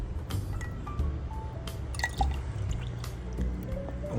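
Water for chicks trickles and drips into a container at close range, a soft running liquid sound with small splashes and light clinks, with no talking over it.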